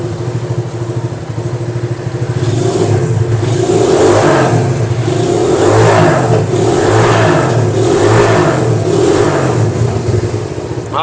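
Old Honda CB motorcycle engine, not warmed up for a long time, revving repeatedly in steady swelling pulses over a running idle, loud and close with no talking.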